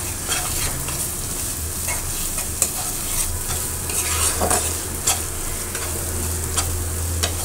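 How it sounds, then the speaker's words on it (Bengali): A masala of garlic, ginger and chili fries in a pan with a constant close sizzle, broken by repeated scraping strokes as a spoon stirs it; no one speaks. "এখন এটা আবার সুন্দর করে ভুনে নেবো"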